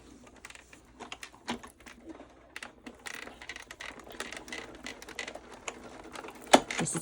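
A die-cutting machine pressing a gift bag pocket die through card, giving a steady run of small mechanical clicks and rattles with a sharper clack near the end, close and moderately quiet, with no voices.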